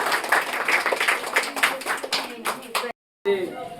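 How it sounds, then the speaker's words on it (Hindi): Audience applause greeting village guests at a community gathering, dense clapping running steadily under a loud voice, then a brief cut to silence before the clapping and talk resume. "सभी जोरदार तालियों से स्वागत करें ग्राम का"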